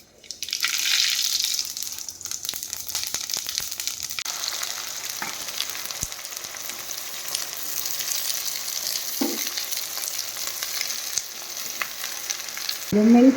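Prawn curry with onions cooking in a pan, giving a loud, hissing sizzle that eases into a steady bubbling fry, with a few faint clinks and no talking.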